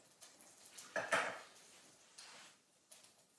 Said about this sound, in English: Just give it a little stir to make it all submerged into the sauce, the meatballs